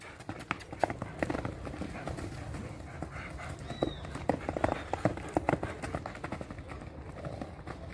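A chestnut crossbred horse's hooves clatter on a hard floor in a steady, fairly close clip-clop rhythm, moderately loud with some background noise.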